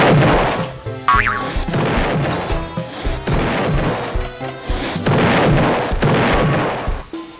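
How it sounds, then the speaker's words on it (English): Rockets slam and explode in a Gardens vs Graveyard style video game, a loud, steady barrage of heavy booming impacts in close succession. "Do you like being assaulted by rockets?"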